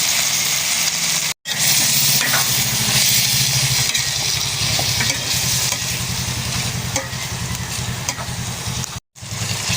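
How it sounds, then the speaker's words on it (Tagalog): Cheese and broccoli are stirred into macaroni in a pan, giving a continuous loud scraping and sizzling texture. Repetitive stirring strokes run throughout, broken by two short silent gaps. "Yan, nahalo ko na yung cheese at saka broccoli."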